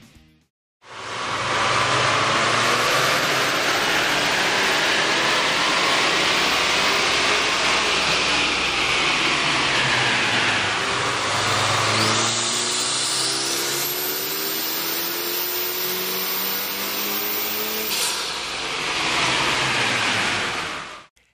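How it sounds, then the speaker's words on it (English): Car engine running on a dyno with a K&N 69-5309TS cold air intake fitted, compared against the stock intake: a loud, continuous engine roar that rises steadily and shifts pitch as it revs, with no talking. "we ran the vehicle on the dyno to test the sound comparison versus the stock intake"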